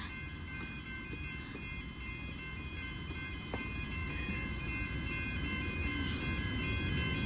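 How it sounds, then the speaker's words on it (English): A suburban electric train rolling past the Ruthven Street/Chapman Road level crossing in Macleod, Victoria, bound for Flinders Street, a steady rumble that grows louder with crossing bells ringing throughout. "it's a Chapman's train, the train I hate"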